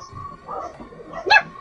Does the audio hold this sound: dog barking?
yes